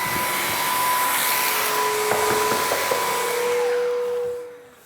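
A robot vacuum cleaner hums steadily and loudly up close with a whining motor tone and a few small knocks, then winds down at the end.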